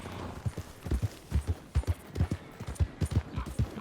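Horse hooves clip-clopping on a dirt path in the Red Dead Redemption 2 video game, a steady trotting rhythm of clear thuds heard close without any speech.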